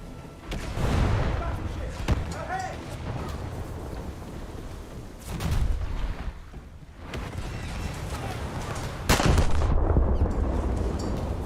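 Naval shells fired and striking a target in a boat combat video game: repeated heavy booms and thuds over a continuous rumble of game noise, with a voice talking underneath.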